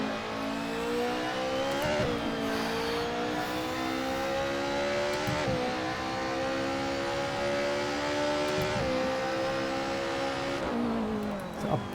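A DTM touring race car, Alfa 155, BMW M3 or Mercedes 190, in a racing game, its engine holding a loud steady drone with several sharp downshift blips and dips in pitch as it brakes hard, no voices.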